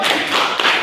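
A group gives a short burst of applause for a presenting team in a classroom session, dense, close clapping lasting under a second.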